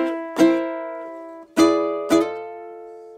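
Ukulele strummed in three ringing chords in a blues: a chord near the start, a pause, then two more close together, each sustaining and fading, close and clear with no talking.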